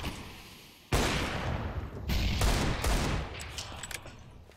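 CS:GO match on the Inferno map in a professional esports game, with sudden loud bursts of rapid gunfire crackling in quick succession, a sharp onset followed by a second volley and scattered shots trailing off.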